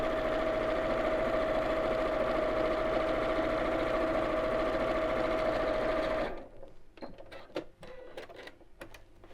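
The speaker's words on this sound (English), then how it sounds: "then carry on sewing" Domestic sewing machine stitching along the raw edges of scarf fabric, a fast steady whirring hum running for about six seconds before stopping, followed by soft handling clicks and rustles, close by.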